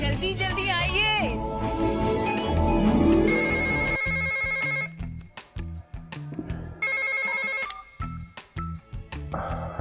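A telephone rings with repeated electronic tones and pauses between bursts, heard after a stretch of music and voices, fairly close and clear.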